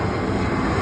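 An airplane passes overhead near an airport, a loud, steady, broadband engine roar that fills the moment without any voices.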